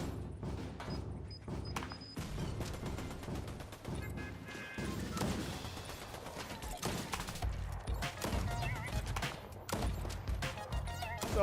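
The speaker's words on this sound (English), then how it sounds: "Someone's shooting me." Rapid bursts of video game gunfire aimed at the player, dense crackling volleys and booms going on throughout, with a voice talking over them.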